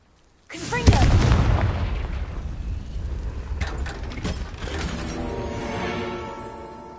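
The Confringo fire spell in Hogwarts Legacy bursts into a heavy booming explosion. A crackling, rumbling tail follows it, with a mechanical rattle and a voice speaking over the top.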